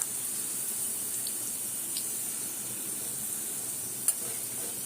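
Sliced onions fry into crisp beresta in hot oil, giving a steady, close sizzling hiss that continues throughout with one brief sharp crackle near the end and no talking.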